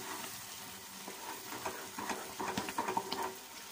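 Thick halwa being stirred without pause in a pan, a steady soft sizzle and scraping with irregular clicks and bubbling pops that grow livelier toward the end, close by with no talking.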